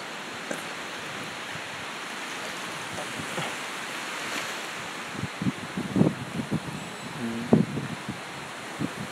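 Sea waves wash in at Antipolo beach resort in Cebu, a constant wide roar of surf with a few louder breaking swells near the end.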